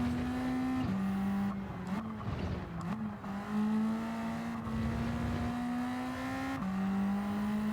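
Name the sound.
Ford Sierra Cosworth RS500 engine racing in a video game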